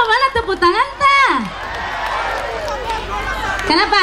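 Concert crowd at an outdoor show in Sengkang, Wajo, cheering and clapping in a sustained roar after a stretch of amplified singing or shouting, with voices returning over the noise at the end.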